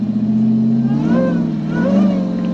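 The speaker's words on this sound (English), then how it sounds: "I love that supercharger whine." Supercharged Demon-engined Jeep Wrangler on big 40-inch tires revving hard, a loud steady engine drone with a rising supercharger whine swelling over it, close and continuous.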